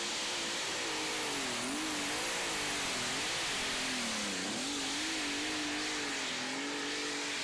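Light weight super stock pulling tractor engine under load at a pull in Wheatland, Missouri, a loud, continuous strained roar that wavers in pitch and sags once as the tractor fights for traction, heard from a distance with a steady noisy wash.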